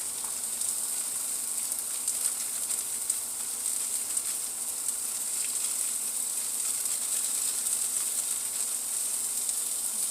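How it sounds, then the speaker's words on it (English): Peppers and onions sizzle in a frying pan, a steady, fairly quiet hiss of frying that continues without a break and with no talking. "Okay, now that this is almost brown, I'm going to add my peppers. And my onions."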